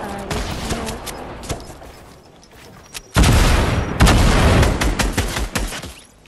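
Grenades blast in a Fortnite Season 8 battle royale fight, heavy booming explosions arriving in quick succession, loud and close, with crackling debris and gunfire around them.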